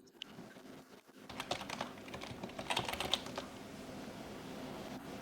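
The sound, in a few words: typing a laptop model name on a computer keyboard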